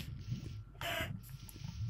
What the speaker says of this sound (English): I can hear the chicken.